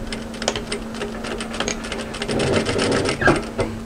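A sewing machine stitches an apron seam with a steady rapid needle clatter and motor hum, running close and continuously with slight surges in speed.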